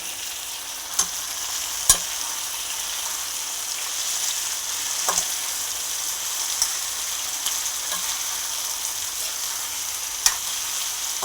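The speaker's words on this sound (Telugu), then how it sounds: "ఈ ఉడకబెట్టుకున్న కందులు కూడా వేసి వేపాలండి" Boiled pigeon peas fry in a hot pan with a continuous soft sizzle, broken by occasional sharp clicks and scrapes of a spoon stirring, with no talking.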